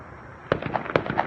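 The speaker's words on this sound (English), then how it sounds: "There's fireworks going off." Diwali fireworks crack and pop in an irregular cluster, several sharp bursts following a brief quiet moment, moderately loud and somewhat distant with no talk over them.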